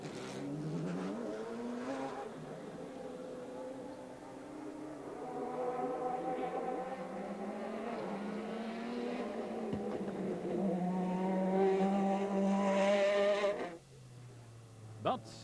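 Race cars lap the Spa circuit during a 2005 European Le Mans Series endurance race, engines droning and rising in pitch as they pass at moderate distance, with a commentator talking over the steady roar.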